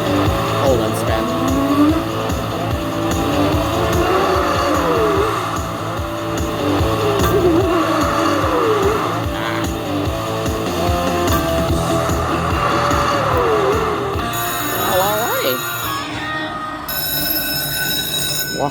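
Lightning Link Checkered Flag slot machine in its hold and spin feature, a loud, continuous run of racing-themed engine roars and bright electronic jingles that ends in a rising chime sequence.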